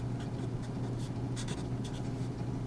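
Pen or marker drawing a line on a math diagram, a soft scratchy stroking texture with repeated short strokes, faint over a steady background hum.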